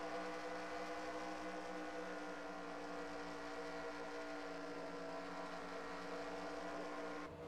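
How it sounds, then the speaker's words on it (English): A race car engine coasting off the throttle through turn one at Rockingham oval, a steady, dense mechanical drone with layered harmonic whine that holds loud and unbroken throughout, then fades slightly at the very end. "You could hear he was off the throttle there through turn one."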